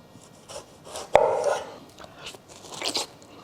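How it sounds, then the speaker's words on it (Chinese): Tomatoes sliced thin on a cutting board, a few soft, close knife cuts with one sharper thunk as the blade meets the board. "西红柿切成薄片"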